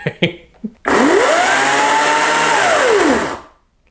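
A 14-inch 40V brushless cordless chainsaw with a Makita-compatible battery revs up sharply, holds a loud, steady high whine for about two and a half seconds, then winds down to silence, after a few short bursts of talk.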